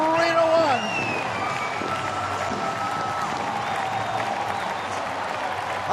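A big Saturday-night crowd at a Pittsburgh Pirates baseball game cheers and applauds after a home run, a broad, steady roar of clapping and shouting heard under a commentator's voice.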